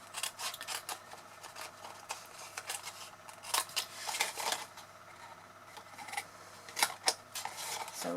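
Scissors snipping away a long thin strip of paper or card while making an interlocking lid box, giving close, crisp, irregular cuts and rustles at a quiet level with no voice.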